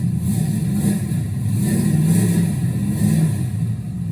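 A Ford Galaxie's engine idling steadily and revving up, a continuous loud low rumble that swells in the middle and close by, with no talking.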